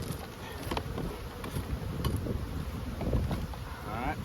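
Honey bees buzz around an open hive during brood nest management, a dense, continuous drone close to the microphone, with some wind noise and faint handling sounds.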